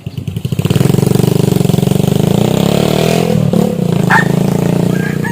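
A motorcycle engine runs loud and close, starting with rapid putters that settle into a steady chugging idle with a slight rev, no talking.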